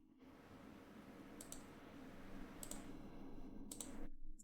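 Three faint, separate computer mouse clicks, spaced about a second apart, over a low steady room hum while downloading files for a Samsung Galaxy S10 custom recovery install.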